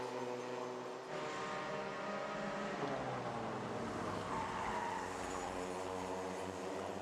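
Racing karts driven hard into turn 8 at Kandava: loud, sustained high-revving engines with a dense harmonic whine that swells as they pass close.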